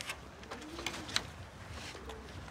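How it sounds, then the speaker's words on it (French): Homing pigeons raised for racing coo softly on a rooftop terrace in Taroudant, Morocco, a faint low murmur with a few brief clicks and rustles in the background. "on élève des pigeons voyageurs et on les entraîne pour faire des courses"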